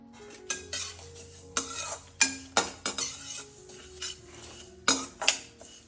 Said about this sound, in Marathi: चला मसाले थोडे परतून घेऊयात।